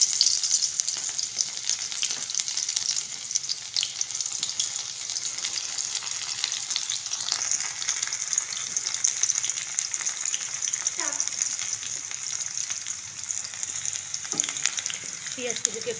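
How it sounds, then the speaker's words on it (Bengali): Chopped onion frying in hot oil for an egg and potato curry, giving a steady, close, continuous sizzle with occasional stirring scrapes and no talk throughout. "পেঁয়াজ কুচিকে একটু ভালো করে ভেজে নিতে হবে।"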